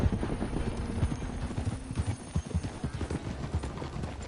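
Hooves of a horse in the video game Red Dead Redemption 2 clip-clop at a steady walking pace, close and fairly quiet, with faint rustling in the background and no talking.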